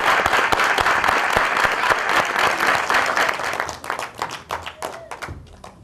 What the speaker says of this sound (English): Let's welcome our contestant with a round of applause.